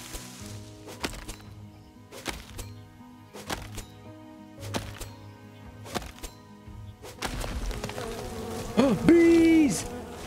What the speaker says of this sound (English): Bees! Bees! Not the bees!